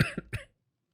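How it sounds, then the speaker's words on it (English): A person who feels sick coughs in a quick burst of three close coughs, near and clear, followed by silence. "I am having a lot of coughing fits."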